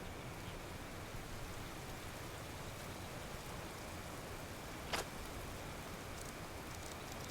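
A heavy rainstorm in Card Survival: Tropical Island pours as a dense, even hiss of rain for the whole stretch, with one brief sharp click partway through.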